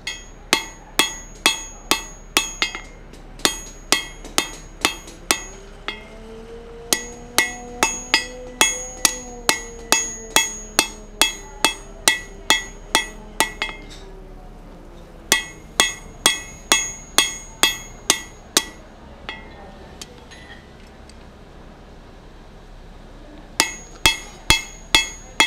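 A blacksmith hammers a hammer eye drift smooth and straight with steady, ringing blows on steel, struck in quick rhythmic runs separated by short pauses, close by and loud, while a low hum drifts under the middle stretch.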